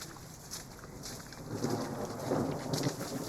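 Heavy rain pours through the Venezuelan jungle as a broad, constant wash of noise, swelling slightly louder partway through, with no voices.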